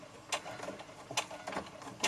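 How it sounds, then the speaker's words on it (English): Sewing machine back-stitching through leftover cardstock cut-offs: short mechanical whirring bursts with clicking needle strokes, spaced irregularly at a slow, limited pace, close up, with no talking. "There's something underneath my sewing machine pedal, so I can't actually go any faster than that"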